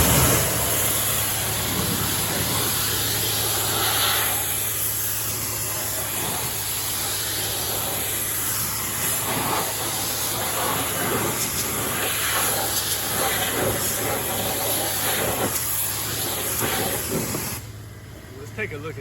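Water spray rinsing purple degreaser off a Ford F150 truck, a steady broad hiss running nearly continuously close by before cutting off near the end, with a low hum beneath.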